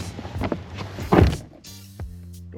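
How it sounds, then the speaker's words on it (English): A Toyota Tundra door, fitted with WeatherTech floor liners, closes with a single solid thunk midway, amid a little background noise and a faint low hum afterward. "See how the door shuts?"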